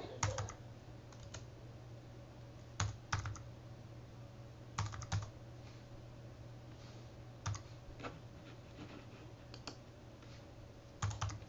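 Computer keyboard typing while network settings such as an IP pool and gateway are entered, heard as short, sparse bursts of quiet key clicks separated by pauses over a faint steady hum.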